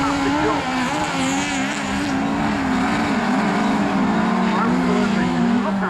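Autograss racing cars roar loudly around a grass track at Castle Combe, a continuous wavering engine drone as they rev through a corner, with a commentator speaking over it.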